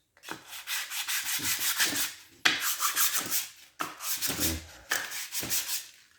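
A Briggs and Stratton cylinder head surface being sanded by hand against abrasive backed by a small piece of wood, four long rasping strokes in steady rhythm separated by short pauses, close and fairly loud, no talking.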